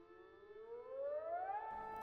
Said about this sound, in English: A siren blared from the northern border, and Soyoung rambled off